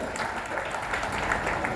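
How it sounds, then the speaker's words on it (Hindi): An audience at a company event in Rajkot breaks into steady, loud applause, a continuous wash of many hands clapping with no distinct voices on top. "कुछ राजकोट वाले भी हैं, इनके लिए भी जोरदार ताली हो जाए।"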